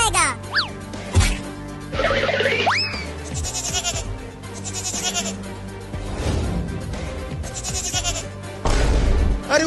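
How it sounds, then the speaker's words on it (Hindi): A cartoon baby goat bleats in a series of wavering, nasal cries near and loud over background music with springy cartoon sound effects. "अरे वो बकरी का बच्चा मेरे खेत में आ रहा है मेरा लालमी खाने"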